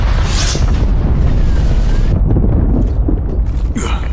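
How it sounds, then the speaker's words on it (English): A cruise missile strike in Call of Duty Cold War lands as a loud, sustained booming blast with heavy low rumble and debris crackle, fading slightly toward the end with faint in-game voice over it. "Enemy cruise missile launch detected."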